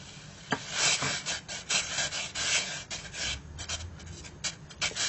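A spoon stirs semolina into a pot of boiling water in a home kitchen, making quick, close scraping strokes in an uneven rhythm over a low bubbling background.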